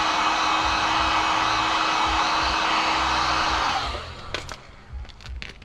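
A heat gun blows with a loud, steady roaring hiss while warming tint film on a Hellcat SRT headlight, then cuts off abruptly, leaving soft handling noises and light taps.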